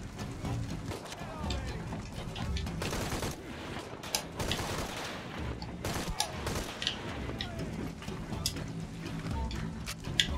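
Gunfire in Shadow of the Tomb Raider during a helicopter attack, with dense bursts and clattering mechanical noise over a busy, rumbling game soundscape, and voices mixed in.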